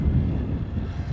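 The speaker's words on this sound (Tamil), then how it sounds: "காற்று ஜாஸ்தியாக இருக்கிறதுனால வீடியோ வந்து ஷேக் ஆகுது" Strong wind buffets the microphone while riding along a road, a dense low rumbling roar that runs continuously and loudly throughout, with no voices heard.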